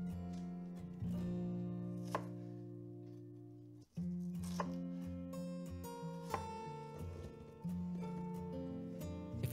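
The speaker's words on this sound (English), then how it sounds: "Cut off the root to discard and finish cutting through the rest of the onion" A knife dices an onion on a cutting board, giving a handful of crisp, separate chops at uneven intervals over sustained musical tones in the background.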